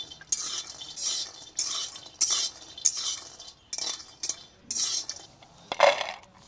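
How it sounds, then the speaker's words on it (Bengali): Lentil badi being dry-roasted and stirred in a dry kadai over low heat, giving a series of scraping, rattling stirs in bursts roughly every half second to second, close and moderately loud, with no talking. "আমি বড়ি কটা ভেজে নিচ্ছি"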